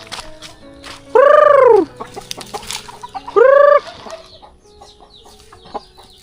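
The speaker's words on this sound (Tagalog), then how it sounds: "Ito naman yung manok namin dito sa bila." Two loud, drawn-out chicken calls rise and fall close by, separated by a short pause, with softer clucks and bird chirps scattered around them.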